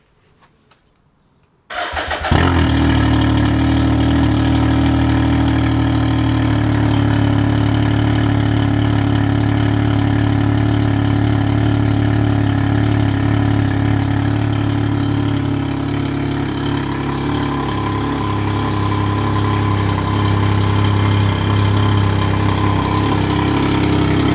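After a moment of quiet, a 2019 Can-Am Ryker three-wheeler with an aftermarket tunable exhaust starts and settles into a loud, deep, steady idle with a throaty exhaust rumble that continues throughout.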